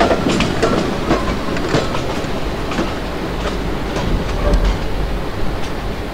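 A passenger train in the Open Rails simulator rumbles steadily as it brakes toward a stop, with a continuous loud clatter of wheels and faint squeals, no voices.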